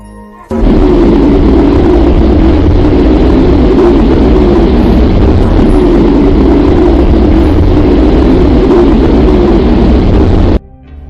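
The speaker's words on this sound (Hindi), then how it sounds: "अब हम आपको अपनी पृथ्वी की आवाज को सुनाएंगे," Offered as the sound of planet Earth, a loud, steady roar like a heavy engine or jet fills the clip, starting and ending abruptly, with no speech.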